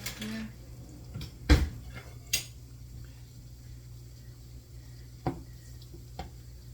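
Cod nuggets shaken in an oiled pan produce sharp metallic clacks and rattles, a few distinct knocks scattered over a quiet background with a faint low hum.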